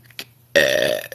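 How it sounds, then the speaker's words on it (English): A girl lets out one loud, deep, drawn-out burp close to the listener, after a brief faint sound. "I really burped the national anthem"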